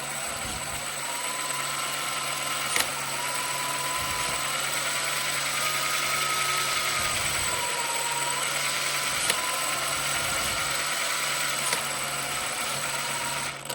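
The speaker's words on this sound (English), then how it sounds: "So if I'm giving it a little throttle and I shift" Small electric motor of an Axial SCX6 RC crawler running steadily with a constant whine, close and continuous, with brief clicks from the shift servo changing the transmission between high and low gear.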